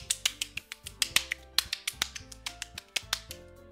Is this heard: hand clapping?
yes